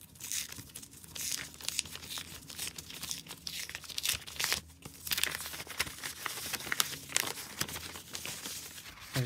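An envelope is torn open by hand, with continuous close paper crinkling, rustling and tearing for several seconds, no voices.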